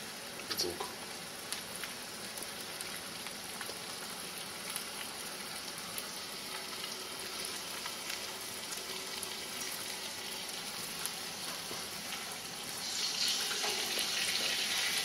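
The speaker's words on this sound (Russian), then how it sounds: "обжарю на сковородке." Thin slices of chicken fry in a pan with a steady, bright sizzle and crackle, close and continuous, swelling slightly louder near the end, with no talk over it.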